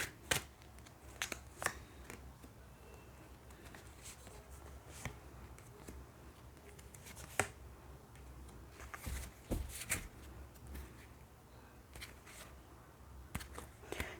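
Tarot cards being shuffled and drawn, giving soft papery riffles and sharp flicks scattered through a quiet stretch, with a few louder snaps of cards slapped down.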